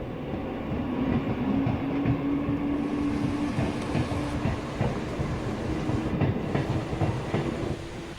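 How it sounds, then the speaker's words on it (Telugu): A train rumbling slowly through a flooded railway station in Mumbai during heavy rains, with a steady low roar, a faint sustained squeal of wheels and occasional clacks, close by. "రైల్వే స్టేషన్లో భారీగా వరద నీరు చేరడంతో రైళ్లు నెమ్మదిగా కదులుతున్నాయి"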